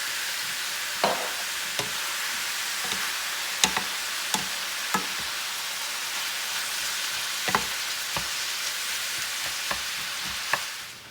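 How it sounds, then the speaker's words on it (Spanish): Beef steak sizzles steadily in oil in a pan, a constant frying hiss with sharp scraping ticks from stirring scattered throughout, close and alone. "Y tenemos que menear constantemente para que se cosa uniformemente la carne."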